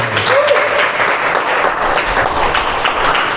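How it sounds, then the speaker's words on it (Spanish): A church congregation applauds in a loud, full burst of many hands clapping that carries on steadily, with a brief voice heard near the start. "Démosle un fuerte aplauso a nuestro Señor."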